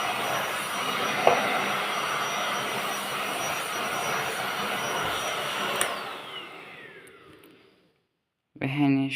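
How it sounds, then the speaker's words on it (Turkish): A Bosch cordless vacuum cleaner sweeping a desk, running as a loud, steady whoosh that fades as the motor powers down, followed by a short stretch of silence before someone begins talking. "Şimdi masamı süpüreceğiz. Süpürüyoruz."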